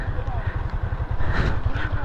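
A Honda CB400 motorcycle engine runs on a mountain highway in Ifugao, a low steady rumble with a quick pulsing beat under a voice.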